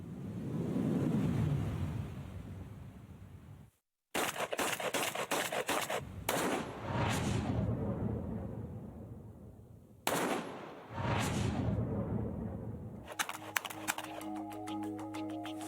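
Rapid shotgun gunfire from military-style smoothbore shotguns, loud sharp blasts fired in quick bursts separated by brief pauses, with a dense flurry of shots near the end.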